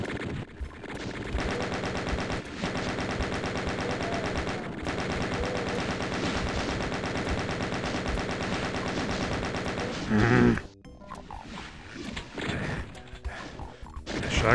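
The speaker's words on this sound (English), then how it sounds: "Who keeps shooting at me from every angle?" Enemies firing at the player in Doom II: dense, continuous rapid gunfire dominates most of the stretch, then cuts off abruptly near the end, followed by quieter game sounds and a few more isolated shots.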